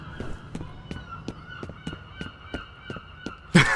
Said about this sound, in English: That seagull sounds amused at my victory.